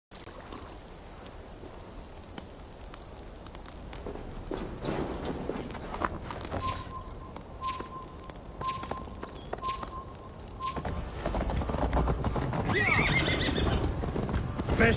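Horse hooves clip-clopping at a gallop in the video game Assassin's Creed Valhalla, with repeated neighs and whinnies, a steady rhythmic pounding that swells louder toward the end over game ambience.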